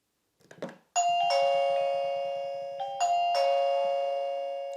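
A MOMAX SL3S smart wireless video doorbell plays its ringtone: two loud, clear chime notes ring out close by, each sustaining and slowly fading, after a brief soft clatter.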